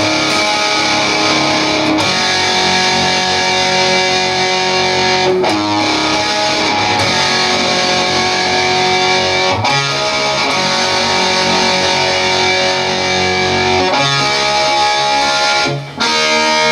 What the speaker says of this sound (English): In place of that, it's distortion time.